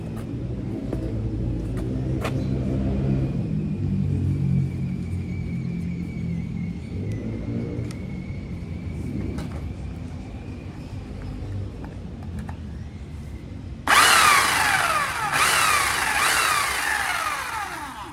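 A chainsaw cuts wood to make a chopping board, its engine rumbling low and steady before a louder, harsher burst of cutting near the end.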